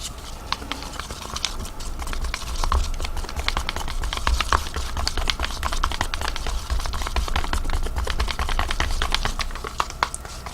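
White paint is stirred in a cup, a steady run of quick, close tapping and scraping clicks against the cup's sides lasting throughout.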